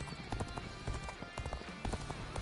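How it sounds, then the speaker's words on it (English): Rapid, clattering hoofbeats from Cao Cao's fast horse galloping in the video game Dynasty Warriors Origins, repeating in close, uneven bursts over ongoing game ambience. "Luckily, we have a very fast horse."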